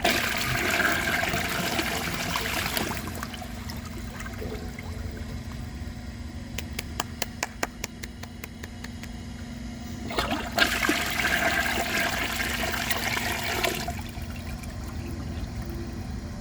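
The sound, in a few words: 1992 Peerless Hancock toilet flushing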